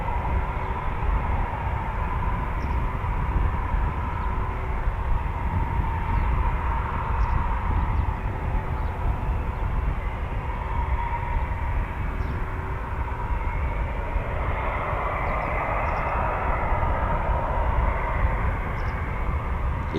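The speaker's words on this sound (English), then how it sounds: "The Eurofighter Typhoon." A Eurofighter Typhoon jet at RAF Coningsby gives a steady, loud, broadband roar that holds for the whole span, brightening slightly toward the end, with no voices.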